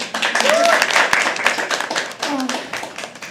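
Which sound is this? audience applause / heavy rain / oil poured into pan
audience applause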